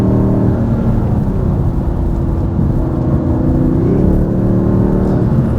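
A 2026 Dodge Charger R/T with a six-cylinder engine takes a series of turns quickly, its steady engine drone and road noise filling the cabin continuously, loud and close, with a slight rise in pitch near the end.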